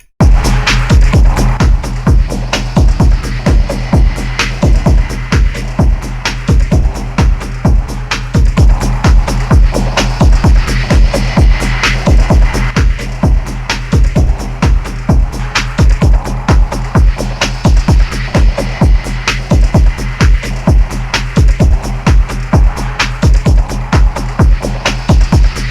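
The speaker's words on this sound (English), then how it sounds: "a different approach where I'm using a hybrid reverb for the left channel and a simple reverb for the right channel" Hard-driving tekno beat with stereo widening from a hybrid reverb on the left channel and a simple reverb on the right, dense rhythmic kick and percussion hits pounding steadily and loud throughout, with no voices.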